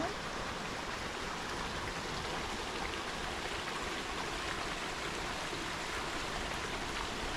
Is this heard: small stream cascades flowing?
yes